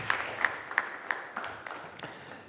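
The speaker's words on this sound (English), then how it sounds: "A round of applause, please." Faint applause from an audience at a business knowledge series event in Ghana, with a few sharper claps standing out over a soft, continuous patter for a couple of seconds.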